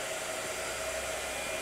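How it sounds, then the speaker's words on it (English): A blow dryer runs in a steady, continuous whoosh with a constant motor hum, close and moderately loud, with no voices. "Blow dryer. Oh, blow dryer."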